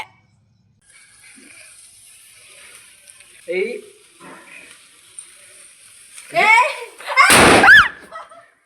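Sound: firecrackers bursting

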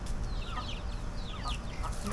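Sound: baby chicks and hens clucking

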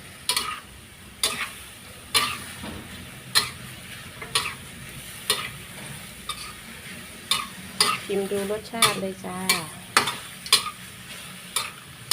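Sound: stir-frying chicken with bell peppers and oyster sauce

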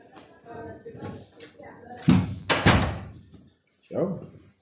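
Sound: door being closed

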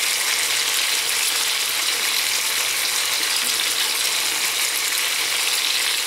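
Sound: onion sizzling as it is fried in a pan

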